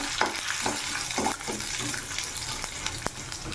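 Cumin, mustard seeds and lentils fry in hot oil, sputtering and crackling up close, with several quick stirring scrapes early on and a few sharp pops later.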